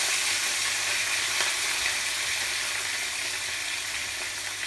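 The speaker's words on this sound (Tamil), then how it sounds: "இப்போ வதங்கிட்டு இருக்கிற வெங்காயம்" Onion sautéing in hot oil with curry leaves and garlic for biryani salna, a loud, dense, unbroken sizzle holding steady from start to finish, close and alone.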